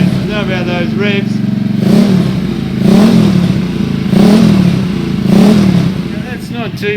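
A supercharged, nitrous-equipped postie motorcycle engine revs repeatedly in rhythmic surges, loud and close, each blip rising and falling back to a rough idle.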